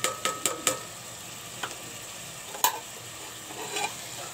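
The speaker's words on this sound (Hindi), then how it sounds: "2 मिनट तक फुल चूल्हे पे फ्राई करेंगे।" Tomatoes, green chilli and onion fry in a pan on a full flame, giving a soft continuous sizzle broken by several sharp clicks and scrapes of a spoon stirring against the pan.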